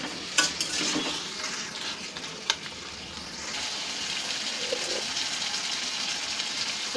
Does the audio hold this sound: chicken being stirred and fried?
yes